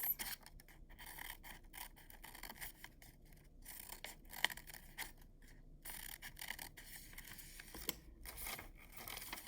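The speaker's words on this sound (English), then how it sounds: "then I take my scissors and I'm going to cut just to the end of those lines." Scissors snip and slice partway through paper in a series of soft, close crisp cuts, with faint rustling between them in a quiet room.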